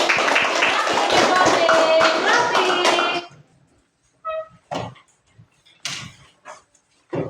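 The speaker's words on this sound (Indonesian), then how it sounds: "silakan dulu tepuk tangan untuk kelompok metode campuran" Classmates clap for a group in a classroom, a short burst of mixed hand claps under a voice that stops abruptly, followed by scattered taps and knocks in a quiet room.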